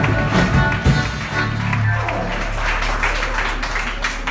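Congregation clapping in a French-speaking church service, a short burst of scattered applause mixed with voices and musical tones, fairly loud and close.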